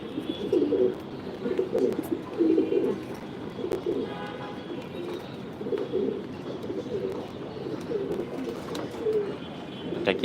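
Pigeons in a racing loft coo in repeated low rolling phrases, several birds overlapping at close range with faint chirps and rustling in the background, and no talk.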